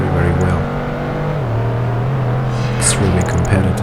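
A race car in Project Gotham Racing 2 on Xbox, engine holding a steady tonal drone that drops in pitch partway through, loud and continuous, with a voice talking over it.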